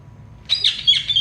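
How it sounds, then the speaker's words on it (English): Indian ringneck parrot letting out a short burst of shrill squawks and chirps, close and loud over a quiet low hum. "I hear birds."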